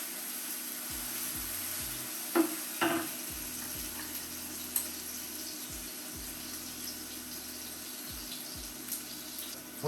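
Onions fry in a pan with a pinch of salt, giving a steady soft sizzle and hiss, broken now and then by brief clinks and scrapes as they are stirred; close and with no voices.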